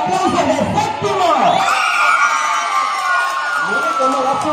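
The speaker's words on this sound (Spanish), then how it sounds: "¡Y los gritos y aplausos de séptimo!" Seventh-grade students at a school event shouting, whooping and applauding together, a loud, continuous crowd roar of young voices that swells and holds throughout.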